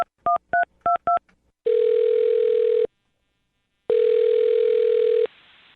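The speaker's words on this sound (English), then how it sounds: "I'm dialing her phone number right now" A telephone beeps through a quick run of short DTMF dialing tones, then a long ringback tone sounds twice with a pause between, clean and loud over a silent line.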